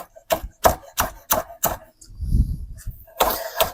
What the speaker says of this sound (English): I'll cut up the whole stalk. Green and white, whole thing.